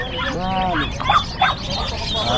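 A White Holland turkey gobbles in a rapid warbling burst near the start, followed by short honking calls from nearby birds over a noisy background.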